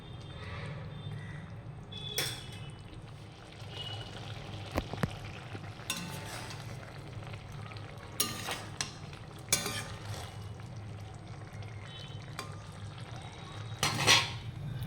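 Fried small river prawns being added to an eggplant curry and stirred in a kadai: quiet, intermittent scraping and clinking of a spatula against the pan over a low, gentle simmer, with a few louder knocks.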